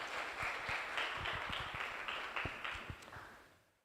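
Audience applause at an academic conference after a paper presentation: a steady wash of many hands clapping, moderately distant, that tapers off toward the end.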